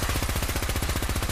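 Rapid automatic gunfire in Fallout 4, a loud continuous burst of evenly spaced shots at a fast steady rhythm, with no talking.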